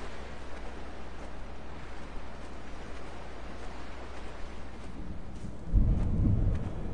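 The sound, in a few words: thunderstorm and rain in video game Dear Esther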